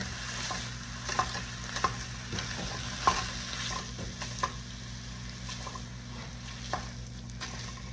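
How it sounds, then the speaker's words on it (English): Ground beef sizzles steadily in a pan while a Pampered Chef Mix and Chop scrapes and chops through it, close up, in irregular taps and scrapes over a constant frying hiss. "I'm using the Mix and Chop, a Pampered Chef tried and true staple, to kind of chop that up a little bit"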